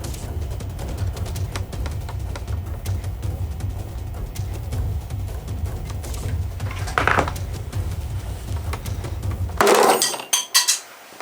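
A tool works at the back of a Regal guitar, prying near a crack, giving a few sharp clicks and scraping clatters near the end over a low steady background hum.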